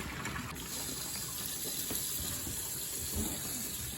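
Cold water runs steadily into a bowl, a constant close splashing gush with no voices.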